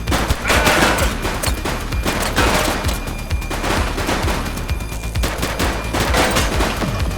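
A shootout in the video game The Precinct brings dense, loud rapid gunfire with overlapping bursts and sharp repeated shots throughout.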